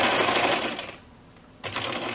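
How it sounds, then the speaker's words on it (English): A sewing machine stitching a quarter-inch seam around a fabric corner bookmark: a fast, steady whirring hum up close, a brief pause, then the motor starts up again. "You're gonna stitch at 1/4 inch all the way around,"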